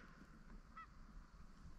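A goose honks once, faint and distant, over steady wind noise in a cut corn field during a hunt.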